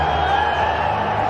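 Stadium crowd at a charity cricket match roaring steadily after a waist-high full toss is hit for six into the stands, a dense continuous wash of cheering with no clear breaks.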